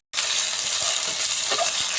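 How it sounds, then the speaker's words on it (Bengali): Chopped onion and ginger-garlic paste frying in hot oil for an egg poach curry, a loud continuous sizzle with a few stirring scrapes, close by and without talk. "পেঁয়াজটা একটু ভেজে নেব"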